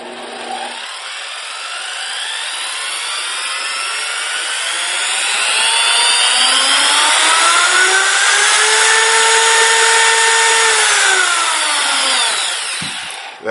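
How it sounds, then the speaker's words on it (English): A Milwaukee die grinder with speed control spins alone, its shrill whine sweeping upward as it speeds up, holding a steady loud pitch, then winding down at the end. "This is the Dremel on steroids, speed control, Milwaukee die grinder."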